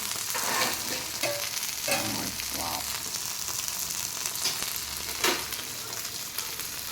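Bangda mackerel fries in hot oil in a pan, giving a steady, close sizzling hiss with occasional sharper pops and spatters throughout.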